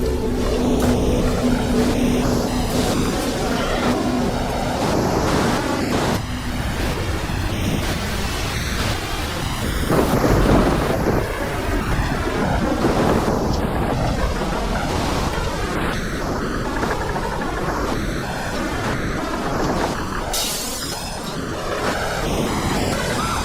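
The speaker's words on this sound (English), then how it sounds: "Winds are now gusting at over 75 miles per hour." Strong, roaring cyclone wind from Cyclone Ida making landfall blows continuously with heavy rushing gusts over 75 mph, loud and close, with a broad storm noise throughout and no voices.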